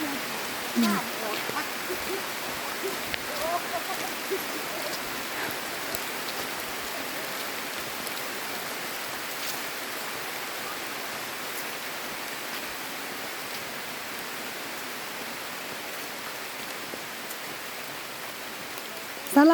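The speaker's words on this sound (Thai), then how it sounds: "ฝนตกนะคะ" Steady rain falls evenly and continuously, a soft broadband hiss of drops on surfaces that keeps going without a break.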